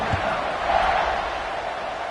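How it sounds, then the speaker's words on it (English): A college football stadium crowd buzzes after a score, a broad steady roar of many voices that swells slightly midway and stays loud and continuous from afar. "this crowd is buzzing after that last score"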